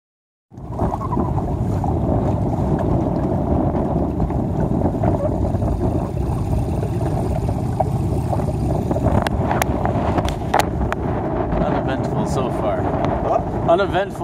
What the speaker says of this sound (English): It's a little windier though than it was earlier. Just sailing better.